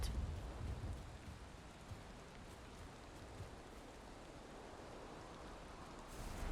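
Steady rain from a thunderstorm in Valheim fills the scene as a broad, even hiss, heavier at the start and end, with no voices.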